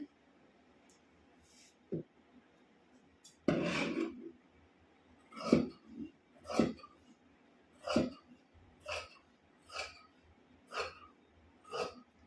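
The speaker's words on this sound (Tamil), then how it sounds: "நான் வந்து இப்போ கீழே இருந்து கட் பண்ண ஸ்டார்ட் பண்ணுறேன், டாப்ஸோட அடியிலிருந்து" Scissors snip through churidar top fabric, starting from the bottom hem, in a steady series of about eight crisp, close cuts spaced roughly a second apart, with soft rustling of the cloth between them.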